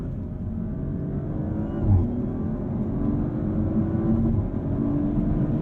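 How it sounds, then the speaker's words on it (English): A low, steady engine drone with soft burbling pops from the exhaust of an Audi RS5 Competition as it coasts off throttle, moderately close. "A little burble from the exhaust and overrun."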